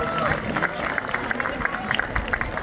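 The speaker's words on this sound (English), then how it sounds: "Let's give a big round of applause." A crowd at a high school marching band review cheers and claps at an outdoor field, a dense wash of applause with people talking over it.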